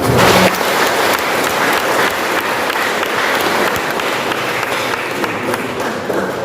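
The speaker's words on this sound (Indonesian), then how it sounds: "Tepuk tangan." Church congregation at a thanksgiving sermon for a brother's perpetual vows breaks into sustained applause, a dense, loud clatter of many hands that holds steadily throughout.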